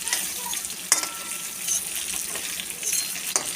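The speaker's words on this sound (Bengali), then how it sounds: "আলু পটল ভাজা কমপ্লিট হয়ে গেছে" Fried potatoes and pointed gourd sizzle steadily in hot oil as they are lifted out of the pan, with a constant bright hiss and a few light clinks of the utensil against the pan.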